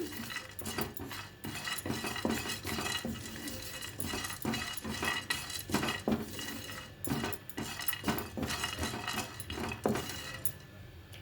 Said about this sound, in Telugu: ఒక స్పూను మినప్పప్పు ఆయిల్ వేయకుండానే వేగించాలి